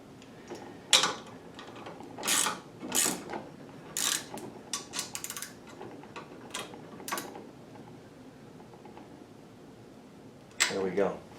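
A wrench tightening the fitting on a Lee Deluxe Perfect Powder Measure quick change system, heard as a series of short ratcheting clicks in bursts spread across the clip, fairly quiet and close.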